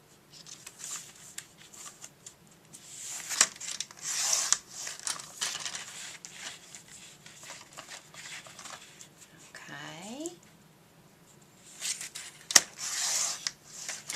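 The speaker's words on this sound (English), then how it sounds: "you're going to take your paper and you're going to cut 2 pieces at 3 inches" Scissors cutting pieces of paper, soft snipping and rustling at close range, quiet and scattered, with a brief voice partway through.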